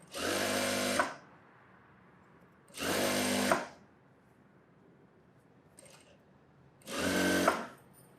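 A sewing machine runs in three separate bursts of about a second each while roughly stitching a blouse, a fast even whir with quiet pauses between and a small clink in one gap.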